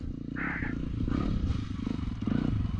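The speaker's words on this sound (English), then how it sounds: "Sounds great your bike, you know." A motorcycle engine idles and rumbles steadily on a forest trail in Betws-y-Coed, with a low, continuous throb close by that swells slightly partway through, and no clear talk over it.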